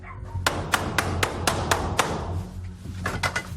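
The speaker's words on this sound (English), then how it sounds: "Door knocker. Wooden door knocker." A wooden door knocker strikes a door in a quick run of about seven sharp knocks, then a shorter burst of three or four, loud and close.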